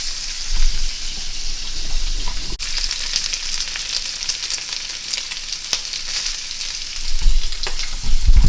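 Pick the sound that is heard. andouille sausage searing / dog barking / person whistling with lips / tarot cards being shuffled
andouille sausage searing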